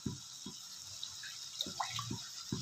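Water poured into dosa batter runs as a steady close trickle, with soft low thuds every half second or so as it stirs and splashes into the mix. No one speaks.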